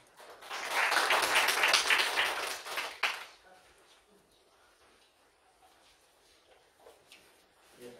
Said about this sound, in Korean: 박수와 함께 맞이해주시기 바랍니다